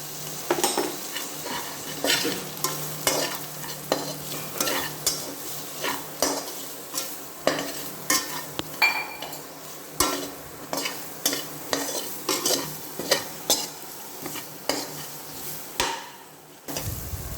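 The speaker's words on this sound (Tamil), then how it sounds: "ஒரு நிமிஷத்துக்கு நல்லா மிக்ஸ் பண்ணலாம்" Food stirred and fried in a pan with salt and pepper, a spoon scraping and knocking in a steady rhythm of repeated strokes over a continuous sizzle, close up with no voices.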